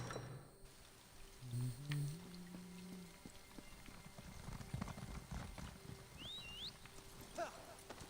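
Horse hooves clip-clop in a video game, a steady soft rhythm against ambient game sound and background hiss, with a brief low vocal grunt early on.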